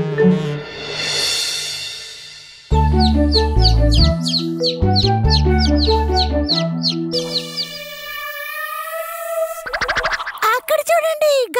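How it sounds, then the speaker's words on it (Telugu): A cartoon garuda eagle calling in a Telugu kids' animation, heard as loud, bright chirping and swooping synthetic cries mixed with bouncy musical sound effects and tonal jingles. "అక్కడ చూడండి, గరుడ పక్షి."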